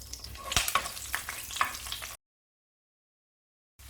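Green chillies sautéing in a mix of oil and ghee with cinnamon and fennel for chicken biryani, a close, quiet crackle with a few sharp pops and stirring scrapes, then it cuts to silence.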